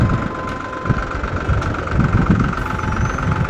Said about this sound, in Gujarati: પચાસનું ટ્રેક્ટર ઊંચું અત્યારે પાળા બાંધવાનું ચાલુ છે